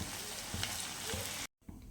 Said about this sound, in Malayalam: ഇനിയും ചിക്കൻ പീസസ് കുറേശ്ശെ ഇടാവും